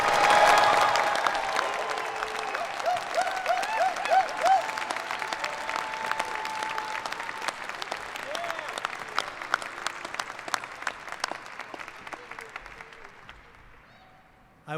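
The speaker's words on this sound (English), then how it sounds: "Let's give our master's degrees graduates one more round of applause." A large crowd claps for master's degree graduates at a university graduate degree ceremony, the applause loud at first and then slowly thinning out, with scattered cheers and whoops mixed in.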